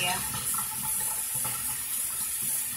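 Hot water runs steadily from a tap during a pampering night at home, a continuous close splashing flow with people talking softly underneath.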